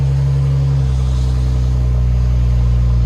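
A BMW X5 M40i with its 3.0L engine and modified exhaust settles into a deep, loud, steady idle after a brief dip in engine note, heard close up with no voices.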